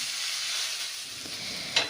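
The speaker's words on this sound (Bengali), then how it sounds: "এবার একটু নেড়ে চেড়ে আমি যে আলুগুলো গ্রেট করে রেখেছি সেই আলুগুলো এর মধ্যে দিয়ে দিচ্ছি।" Grated potatoes stirred into spiced oil in a frying pan, a steady soft sizzle throughout with a brief louder scrape of the spoon near the end.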